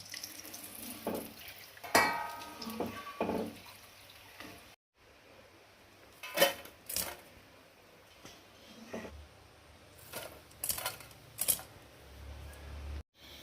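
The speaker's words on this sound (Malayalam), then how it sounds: "വെളുത്തുള്ളിയും കറിവേപ്പിലയും മൂത്ത് വന്നിട്ടുണ്ട് ഇനി നമുക്കതൊരു പാത്രത്തിലേക്ക് കോരി മാറ്റാം" Fried garlic and curry leaves are scooped out of hot oil into a vessel, giving scattered metallic scrapes and clinks over a faint sizzle, with no voices.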